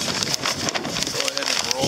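Gusty wind blows across a brand new Falcon Sail recreational kayak sail during installation on a kayak, a fluctuating breathy rush with fabric-like flutters, moderately loud and steady, alongside faint background sounds.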